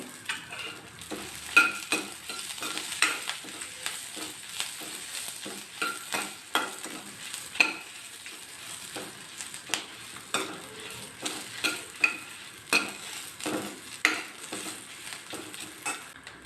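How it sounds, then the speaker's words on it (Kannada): Curry leaves hit hot oil while tempering for a Brahmin-style avarekalu huli, giving a continuous soft sizzle broken by regular scraping stirs of a spoon against the pan. "ಸ್ವಲ್ಪ ಕರ್ಬೇವಿನ ಸೊಪ್ಪು ಹಾಕ್ತಾ ಇದ್ದೀನಿ"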